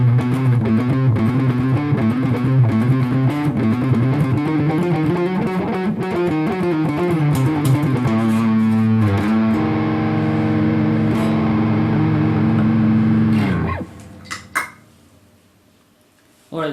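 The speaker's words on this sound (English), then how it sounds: "You can create riff like this, when you play with a distortion pedal in my sound." Electric guitar played through a distortion pedal, a sustained riff of diminished-scale phrases with a gritty, saturated tone, loud and continuous for about fourteen seconds before it cuts off into near silence, with a couple of brief clicks after.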